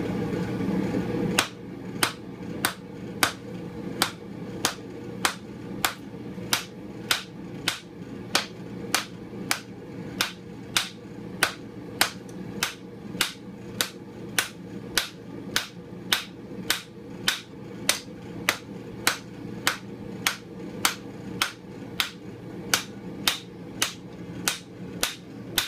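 Sharp metallic hammer blows ring out at a steady, even rhythm, dozens of strikes on hot metal over a faint background hum.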